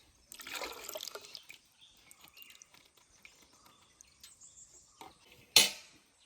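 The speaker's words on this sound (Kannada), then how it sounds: "ಈಗ ನಾವು ಚಿಪ್ಪಿಯಿಂದ ಬಕೆಟಿಗೆ ಹಾಕೋದು." Rubber latex tipped from a small collection cup into a bucket on a rubber plantation, a soft wet trickle and pour near the start with faint clinks, then a brief sharp knock or clatter near the end.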